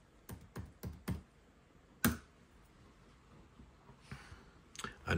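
A computer keyboard being typed on to enter a password: a quick run of four or five close key clicks, one sharper tap after a pause, then a few more keystrokes near the end.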